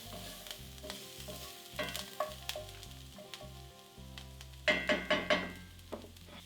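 Rosemary, thyme and parsley stirred in a frying pan for a beef steak bites dish. A soft sizzle runs under repeated scraping and clinking strokes, close up. A brighter burst of sizzling comes near the end.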